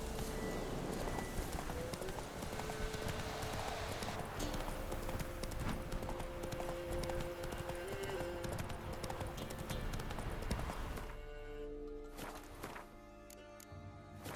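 Hooves of a horse clip-clopping at a run in The Witcher 3, a steady rhythmic patter over game music and ambience, fading near the end.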